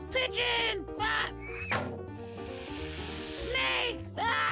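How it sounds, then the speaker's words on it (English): A cartoon snake's hiss in a children's animal animation, a steady airy hiss in the middle of the clip, with music and animated character voices and exclamations around it. "Snake!"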